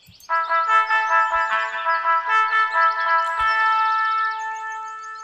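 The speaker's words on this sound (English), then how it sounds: "All of a sudden the bell sounded, calling the pioneers for lunch." A chiming bell in the Everlasting Summer visual novel rings out to call camp pioneers to lunch, a sustained, resonant ding-dong tone that holds steady for several seconds before slowly fading, loud and alone.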